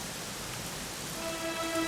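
Steady rain pours in the Dragon Quest XI video game, a dense even hiss with faint tonal music rising near the end and no voices.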